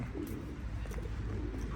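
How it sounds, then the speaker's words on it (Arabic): Pigeons cooing softly on a city street, a continuous low murmur of several birds with faint background noise. "شوف ايش قد طيور"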